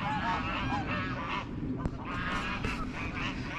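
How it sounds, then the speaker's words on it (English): Geese honking repeatedly in a noisy chorus at a pond, fairly close, with a faint background murmur. "there's the geese making a noise"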